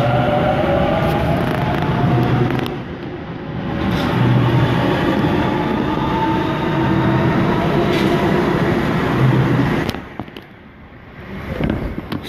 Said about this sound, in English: But here you have a Waratah. Now departing as well.